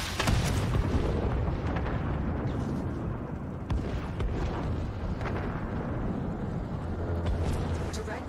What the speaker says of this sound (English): Direct hit. The cannon has been obliterated.